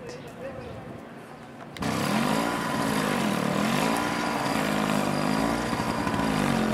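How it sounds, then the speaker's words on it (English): Snow blowers clear snow during a 2011 snowstorm. After a quiet start, a loud, droning small-engine roar kicks in abruptly and holds steady, its pitch wavering slowly, while voices are heard in the mix. "These guys are snow blowing, and it's impressive."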